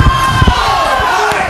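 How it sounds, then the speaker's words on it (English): A wrestling crowd yells "War Machine" in a loud, steady roar of massed voices, close and continuous, with scattered louder shouts and thumps. "the crowd, of course, yelling War Machine"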